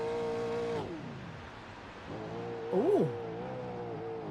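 A race car in the Sandown 500 sim racing round buzzes at a steady pitch, then cuts out almost to silence as the driver clutches to save fuel. The buzz then returns, and a voice gives a brief exclamation over it.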